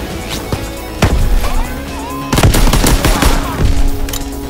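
Fighter plane strafing run in Call of Duty WWII multiplayer, loud rapid bursts of machine-gun fire and impacts rattling close by in a continuous fusillade with brief gaps.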